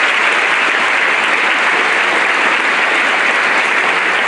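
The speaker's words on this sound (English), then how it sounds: "I think they deserve a round of applause." A large crowd at a school honor society ceremony gives teachers loud, dense, sustained applause, a continuous wash of many hands clapping with no talk above it.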